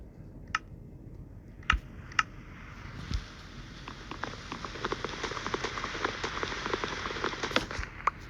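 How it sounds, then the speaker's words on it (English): Steady pattering rain from the Minecraft Pocket Edition (Bedrock) game, a soft continuous hiss with scattered drop ticks and a few sharper clicks, heard alone without voices. "Sounds like it's raining out."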